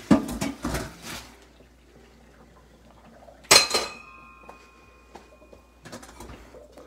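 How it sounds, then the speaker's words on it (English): Boiled cauliflower linguine pasta is drained in a kitchen sink: a few clattering pot and metal clinks, a sharp clang midway, then soft splashy patter, fairly close, with quiet pauses between. "Drain the pasta."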